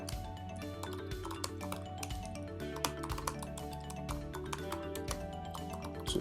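Rapid, irregular keystrokes on a computer keyboard, light and close, tapping away over soft background music.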